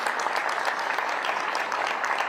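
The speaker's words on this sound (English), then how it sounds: "Can you also give them a nice round of applause?" Steady applause from a crowd at the groundbreaking for a new O'Hare Airport terminal, dense and even throughout, fairly loud, with no voices over it.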